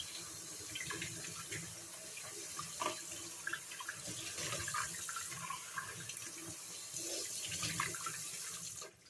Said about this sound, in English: So I'm going to rinse this first with water so it gets warm.